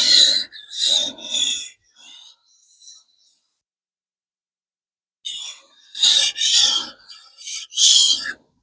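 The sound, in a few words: knife being sharpened on a stone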